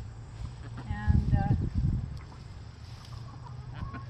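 Hens cluck and murmur softly in a short burst of calls near the start, with a few higher squawks, then fade into quiet farmyard background.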